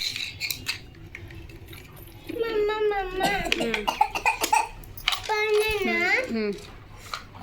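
A child coughs several times close by, mixed with a voice and an adult speaking, some fussing sounds in between.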